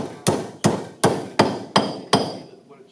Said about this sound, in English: so old school hammer